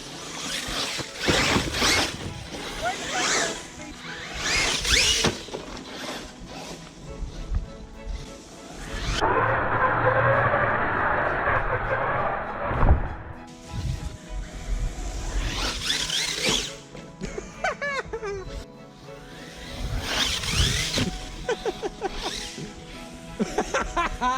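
Electric brushless Hobao Hyper ST RC car, a nitro model converted to electric, whining and revving as it drives, with sharp high-pitched motor squeals and tyre scrubbing that rise and fall in bursts; a steady loud whine holds midway.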